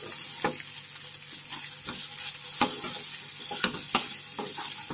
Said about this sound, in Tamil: தேங்காய் திருவல் இதையும் சேர்த்து கிளறிட்டு நம்ம ஆவியில வேக வச்ச கொழுக்கட்டைகள் அதையும் சேர்த்து நல்லா பரட்டி விட்டுலாம்.